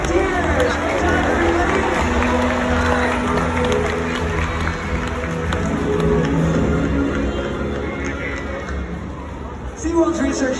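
A crowd at SeaWorld Orlando's Orca Encounter applauds and cheers loudly, a broad, steady roar of clapping and crowd noise that lasts the full clip, with voices in the mix.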